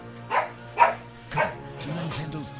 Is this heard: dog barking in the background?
yes